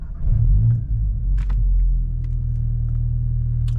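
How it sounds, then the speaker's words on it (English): A tuned VW GTI running stage 2 on E85 starts up with a loud low rumble, then settles into a steady, even idle heard close by with no talking. "And we will turn on the car."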